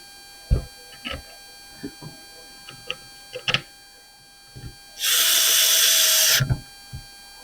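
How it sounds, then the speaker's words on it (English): A power drill runs in one steady, loud burst of about a second and a half, driving screws back into a Troy-Bilt 30 inch snowblower, with scattered clicks and taps of handling parts before and after. "And then we'll put all these screws back in."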